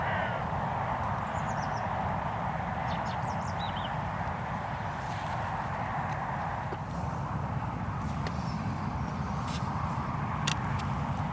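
A hooded crow circles over an early-morning field, giving several short, distant caws scattered through the clip. The calls are faint against a constant broad roar of wind or background noise.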